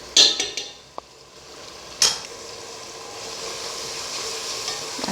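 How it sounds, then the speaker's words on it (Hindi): A utensil scrapes and clinks in a pan while spices for a vegetable pulao are stirred in, with two sharp strikes followed by a soft, steady sizzle. "अच्छी तरह मिक्स कर लेंगे इसे।"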